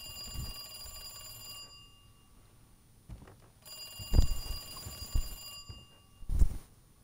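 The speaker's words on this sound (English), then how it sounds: "A phone call. Who could it be?" A telephone rings in Resident Evil 2 Remake, a few ring bursts spaced apart at moderate level over a quiet game ambience, with no talking.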